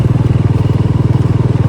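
Motorcycle engine pulsing steadily and loudly up close with a regular low throbbing rhythm, heard while riding along an off-road route in hot sun.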